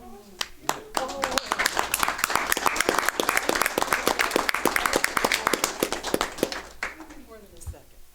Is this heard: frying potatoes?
no